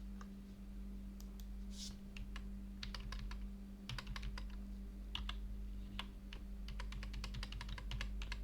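Quiet, irregular tapping of computer keyboard keys, including the number pad zero and Del keys, scattered single presses and short bursts over a low steady hum.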